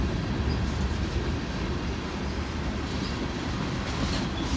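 A single SD70ACe locomotive hauls a full-length oil tanker train, heard as a steady, moderately distant rumble of rolling freight cars with faint wheel noise, no voices.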